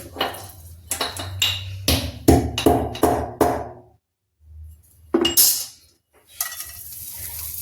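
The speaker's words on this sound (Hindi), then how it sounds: "ये इलायची, ये हम कूट के डालते हैं।" Cardamom and cloves are pounded to crush them, a run of sharp metallic knocks in an uneven rhythm, each strike clinking close and loud, with brief pauses between bursts.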